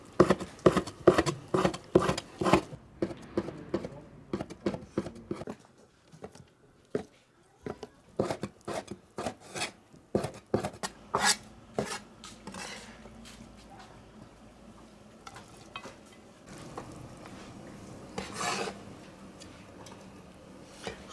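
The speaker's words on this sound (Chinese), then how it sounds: "现在把所有的羊杂碎都切碎" A knife chops lamb offal, including tripe and heart, on a board in a home kitchen: quick, sharp, regular chops, then a brief pause, then more chopping that grows softer and looser toward the end.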